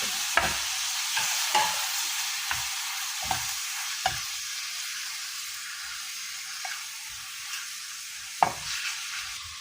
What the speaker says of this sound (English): Add the crushed ginger and garlic.